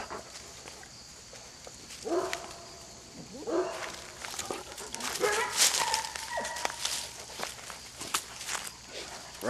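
Hound dogs moving about outdoors, with scattered footsteps, rustling and a few short yelps or whimpers at close to moderate range, while people's voices come and go in the background.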